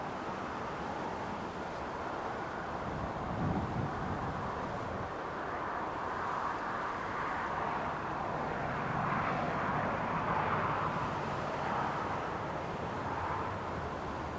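Faint, distant rumble of an Emirates airliner landing at Newcastle International Airport, a steady low drone that swells slightly midway and lingers alone without talk.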